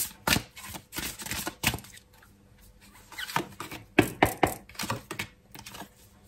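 Tarot cards being shuffled and drawn by hand, a run of soft, papery riffling bursts and flicks at close range, with brief quiet gaps between them and no talking.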